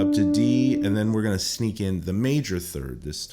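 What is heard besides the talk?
None of the usual background noises is heard.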